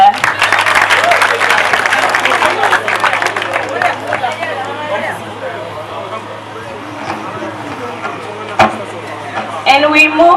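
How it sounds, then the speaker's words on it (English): Audience clapping at the Miss Brufut 2022 beauty pageant awards, loud and dense at first with crowd chatter mixed in, then thinning and fading over the following seconds before a brief renewed burst near the end. "Can you please clap for her?"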